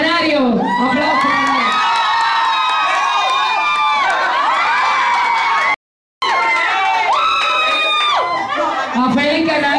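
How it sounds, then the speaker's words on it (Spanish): A crowd at a course event in the Dominican Republic cheering, whooping and shouting loudly, voices overlapping in an excited, continuous roar with a brief dropout midway. "¡Aplausos!"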